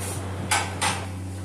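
A spoon or spatula clatters against a cooking pot while fried chicken and spaghetti are tossed together, two short scraping knocks close by, with quiet between them.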